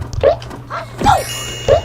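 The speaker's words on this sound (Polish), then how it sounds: "To jest znowu ten pies, albo borsuk." A dog character barks three times in the video game Croc: Legend of the Gobbos, short close yaps spaced apart over a low steady game hum.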